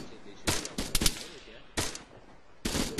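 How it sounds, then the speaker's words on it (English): Machine-gun bursts in a military video game training session, three sharp, loud volleys separated by short gaps, with voices talking faintly between them. "Yeah, I'll start shooting."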